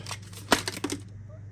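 Quick papery riffling and soft slaps of tarot cards being shuffled, a rapid burst of flicks that stops abruptly.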